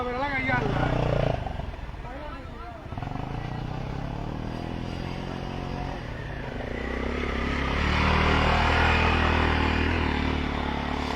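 A motorbike crosses a river-eroded, broken road section, its engine rumbling close and rising toward the end, with people talking over it and a scrape along the way.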